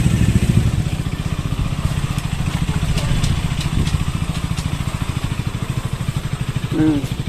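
A motorcycle with a problem, brought to a dealer in Duliajan, Assam, idles with a steady, close, rapid thumping putter, loud and unbroken throughout.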